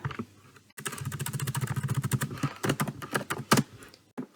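A field name being typed on a computer keyboard: rapid, close, clattering keystrokes in a dense run after a short quiet start, with a couple of louder key hits near the end.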